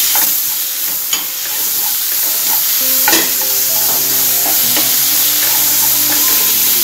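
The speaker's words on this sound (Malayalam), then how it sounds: "സബോള ഏകദേശം വാടിക്കഴിയുമ്പോൾ തക്കാളി അതിലോട്ട് ഇടാം." Tomato frying with softened onions in a pan for Kerala fish pollichathu masala, a loud continuous sizzle close by, broken by occasional scraping stirs of a spoon.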